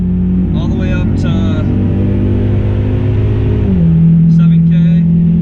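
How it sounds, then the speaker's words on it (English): A tuned Ford Mustang EcoBoost engine revs hard toward 7000 rpm, a loud steady drone heard from inside the car that drops in pitch near the end as it comes back down and shifts. "We're gonna lay into it here again."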